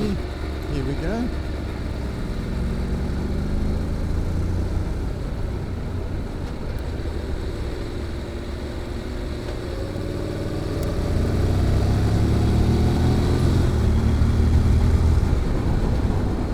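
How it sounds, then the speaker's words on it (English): A Honda NC750X motorcycle fitted with a GPR muffler pulls out of a tight corner, its engine a steady low drone that swells louder as it accelerates, mixed with heavy wind rumble and a rider talking over it. "And hear the muffler kicking in and bottom end torque. Accelerating out here."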